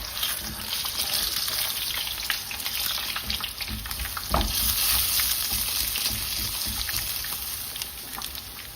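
Chicken breast sizzles and crackles in hot oil in a pan, a loud continuous frying hiss that surges briefly when it is turned over.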